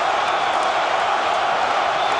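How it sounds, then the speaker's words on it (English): A large arena crowd at a boxing match between George Foreman and Evander Holyfield roars and chants between rounds, a dense continuous wash of voices filling the whole stretch. "The crowd is chanting between rounds."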